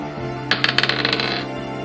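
Dice tumble onto a hard surface in a tabletop game: a quick cluster of bright clicks and rattles, close and clear, settling within about a second over a low steady hum.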